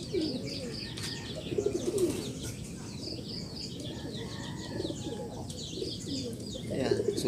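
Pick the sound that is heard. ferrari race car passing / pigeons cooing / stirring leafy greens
pigeons cooing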